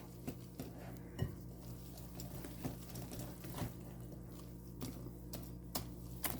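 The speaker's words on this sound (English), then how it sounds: "Just add it and stir it until it's blended." Flour is stirred into beer batter for cod in a bowl, making quiet, repeated scraping strokes with sharp little taps of the utensil against the side, close up and with no talking.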